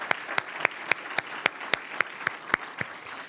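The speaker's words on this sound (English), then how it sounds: "let's give him a round of applause." Sharp claps repeat in an even rhythm at an awards ceremony, about ten separate strikes, moderately loud and close, like a small group or a single person applauding.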